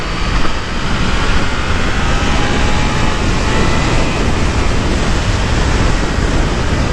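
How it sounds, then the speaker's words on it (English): Roaring wind blast buffeting a rider on a Triumph Trident 660 naked motorcycle, a loud, steady broadband rush filling the whole stretch with no talk. "Lot of wind blast, lot of wind blast."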